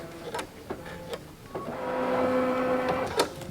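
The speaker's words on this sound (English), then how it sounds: "drop our foot, and we'll let it sew this seam right there" A Luminaire XP2 sewing machine stitches a quilt seam, its motor whirring steadily with a rising mechanical hum and a few clicks, alone without talk.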